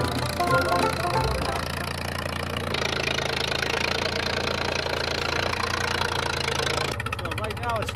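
Old snow plow truck, called Old Blue, warmed up and left running on a homestead: a steady, close engine rumble with a faint knocking idle that continues under a voice.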